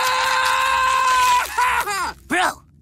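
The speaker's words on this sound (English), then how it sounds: "do us a solid and scream a little quieter" Cartoon character screaming loudly in a sustained wail, then breaking into several shorter strained cries and groans that trail off into quiet.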